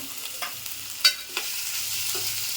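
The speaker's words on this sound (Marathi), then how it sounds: "हे कांदे मी तीन कांदे कापून घेतलेत छोटे छोटे ते टाकते" Chopped onions, three of them cut small, frying and being stirred in oil in a kitchen pan, a soft steady sizzle with a few louder scraping stir strokes near the middle.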